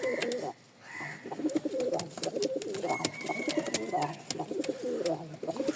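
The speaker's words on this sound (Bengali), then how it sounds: "এই দেখেন কবুতর" Pigeons kept by a breeder coo in low, repeated throaty rolls close by, with scattered clicks and shuffling around them, while a person talks over the birds.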